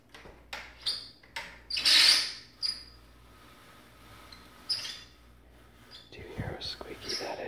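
An old window shade in a brother's room squeaks in several short, high scraping bursts as it is pulled, close by, followed by a soft voice and rustling.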